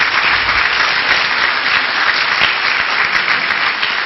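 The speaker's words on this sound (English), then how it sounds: "would you give all of yourselves a round of applause for being here?" A crowd at a literacy summit applauds, with sustained, loud clapping from many hands that holds steady throughout without any voices on top.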